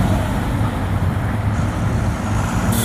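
A big yellow dump truck driving away from a dirt-moving site, a continuous broad rumbling engine and road noise at a steady level with no speech.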